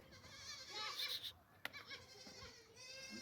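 Several goats and their kids bleat in overlapping, wavering calls close by, with a sharp knock partway through and soft farmyard noise around them.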